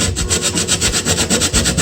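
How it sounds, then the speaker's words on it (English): Whole nutmeg is grated by hand for a ripe banana punch in quick, even back-and-forth rasping strokes, close and clear with no talk. "Let us grate the nutmeg."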